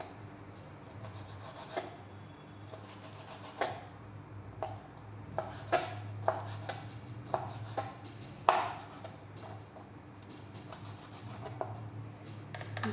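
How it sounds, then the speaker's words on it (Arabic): Chicken liver being cut into medium pieces with a knife on a board, a scattered series of sharp taps, faint and close, clustering in the middle with quiet gaps between. "نرفدهم هكذا ونقطعهم قطع متوسطين"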